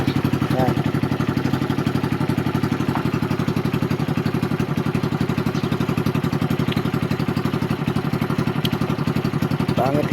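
A 110cc motorcycle with a homemade stainless steel muffler idles nearby, a steady rapid putter with a rough mechanical clatter running evenly throughout and no break.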